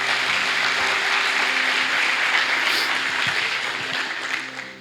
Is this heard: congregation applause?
yes